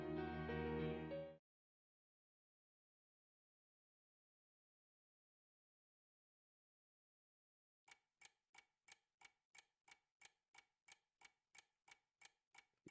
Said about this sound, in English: God, if I had to hear that ticking.